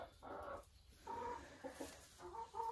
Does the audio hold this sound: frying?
no